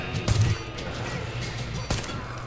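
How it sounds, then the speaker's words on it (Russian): Gunfire in the video game Metro Exodus, in the Yamantau bunker, with two sharp shots standing out against a steady game ambience, one near the start and one toward the end. "Так, кто стреляет? Откуда стреляет?"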